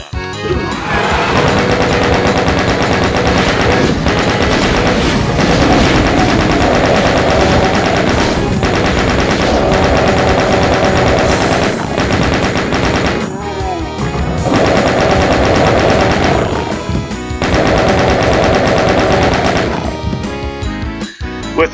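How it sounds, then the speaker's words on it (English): Chain gun in the classic Doom shooter blazing in long rapid automatic bursts, loud and dense, with short breaks between volleys amid game effects. "So I'm going to switch over to the chain gun."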